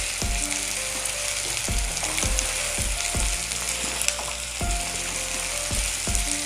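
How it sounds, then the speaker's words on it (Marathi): Onion and tomato frying on high gas heat for Maharashtrian pithla, a constant loud sizzle broken by regular scraping stirs of a spatula against the pan, close up with no talk. "कांदा आणि टमाटर ना चांगलं भाजलं पाहिजे याच्यात ना. आणि फास्ट गॅसवर भाजायचं आपल्याला."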